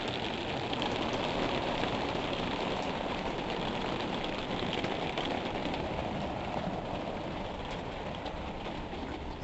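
Hail pelts the roof of an RV in a dense, steady clatter, a continuous broadband rush with no gaps or voices.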